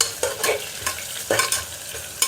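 Onions frying in a pan for hotel-style kushka rice, stirred with a spoon in several quick scraping strokes over a soft continuous sizzle.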